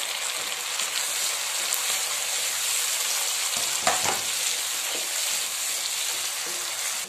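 Chopped onions and tomatoes frying in a pan for egg masala give a loud, dense, continuous sizzle heard up close, with one brief clatter of stirring partway through and no voices.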